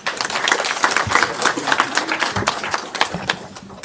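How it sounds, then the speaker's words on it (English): Audience clapping at a provincial research colloquium, a brisk, steady patter of many hands at moderate loudness that carries through and thins slightly near the end. "Another round of applause."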